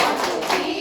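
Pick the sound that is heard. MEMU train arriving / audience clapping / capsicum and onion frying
audience clapping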